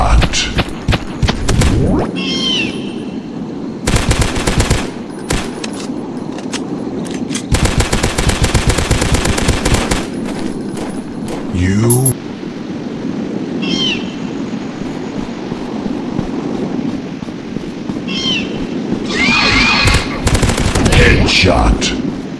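Gunfire in the dinosaur-hunting video game Dinosaurs Hunter, loud rapid bursts of automatic fire and single shots, with creature cries and game noise in between.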